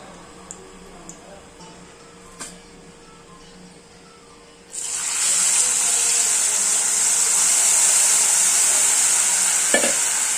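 Tamarind extract for tamarind rice is poured into a hot pan, setting off a sudden loud sizzle that keeps going steadily after a few seconds of quiet kitchen background.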